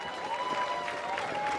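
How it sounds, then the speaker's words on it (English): Crowd at the DanceRites dance competition finals cheering and applauding in a steady, sustained wash of noise for a brief moment, with a faint tonal line running underneath. "Oh, yes, big cheer."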